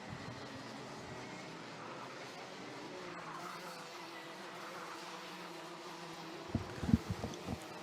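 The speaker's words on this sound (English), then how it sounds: "these karts are the quickest out there on track in terms of the package for CKC and JKC as they fly way round that crook corner" Junior Rotax racing karts at Whilton Mill speed through a corner, their engines a faint, distant buzzing drone under the track ambience, with a few sharp thumps near the end.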